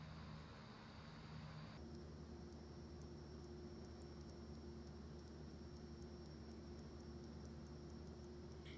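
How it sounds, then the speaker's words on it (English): Faint, evenly spaced clicking ticks over the steady engine and cockpit drone of a Carenado PC-12 turboprop, coming from its GPS unit in the X-Plane 11 simulator; the clicks repeat throughout without pause. "That clicking. It comes from the GPS."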